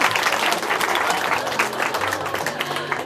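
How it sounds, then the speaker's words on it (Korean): Audience in a church hall breaks into sustained applause for a testimony speaker, dense even clapping from many hands, loud and continuous throughout. "다시 한번 뜨거운 박수 보내드릴까요?"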